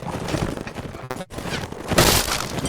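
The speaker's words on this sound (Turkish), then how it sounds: "Kalkanım kırıldı." Shield smashing apart in a Mount & Blade Warband battle: dense, continuous crashing and clatter, a brief drop near the middle, then a louder bright burst of breaking noise toward the end.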